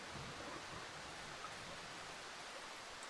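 Steady, even rainfall hisses without pause in the horror survival game Darkwood, a dense wash of drops at moderate level with no voices over it.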